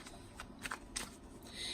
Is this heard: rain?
no